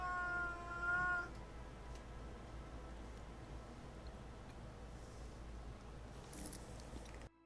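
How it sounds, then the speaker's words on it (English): A pet cat lets out one loud, wavering yowl at the start, then only a quiet, steady room hum remains with a few faint ticks. "So apparently my cat was screaming for no reason?"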